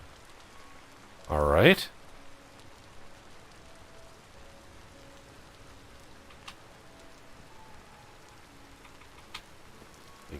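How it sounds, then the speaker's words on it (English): Steady rain falls throughout a stretch of Vintage Story, a soft continuous hiss broken early by a short, louder clatter, with a brief spoken remark. "of course it's raining. It's damn near always raining in this game."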